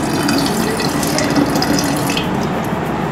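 Activated dry yeast mixed in lukewarm water is poured into a homemade grape, sugar and wheat wine mixture, a loud continuous splashing pour with a rattly texture, very close and with no talk.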